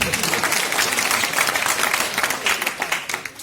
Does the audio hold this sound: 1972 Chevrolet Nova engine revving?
no